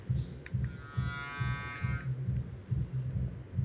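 An Oral-B iO electric toothbrush buzzes in short pulsing bursts, a low rhythmic throbbing hum repeating about twice a second, close and fairly loud, with a brief higher whine partway through.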